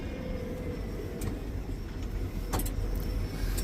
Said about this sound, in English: The truck is already running